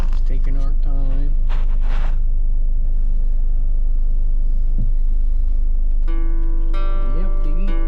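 A car rolls along an off-road trail with a dog named Rocko aboard, a steady low engine and tire rumble running throughout while a voice talks over the start and a whistling, whining tone rises near the end.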